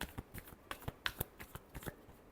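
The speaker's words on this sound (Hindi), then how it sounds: "last shuffle" A brief, close shuffle of a tarot deck: a quick string of soft papery riffles and flicks, quiet and evenly spaced over a couple of seconds, with no talking.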